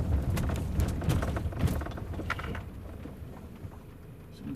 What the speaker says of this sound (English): You hear the knocking sound.